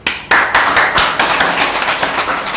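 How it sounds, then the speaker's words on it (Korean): Audience clapping during a Korean lecture on career and character coaching, a burst of many hands starting abruptly, dense and fairly loud, with a few sharper individual claps standing out before it settles into steady applause. "박수."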